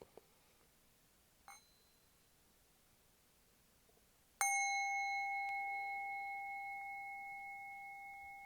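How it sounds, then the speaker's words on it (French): A small meditation bell struck once, a single clear ring with a bright attack that sustains and slowly fades in a quiet room, preceded by a couple of faint taps. "je vais utiliser la petite cloche que je vais sonner une fois au début et une fois à la fin de la méditation"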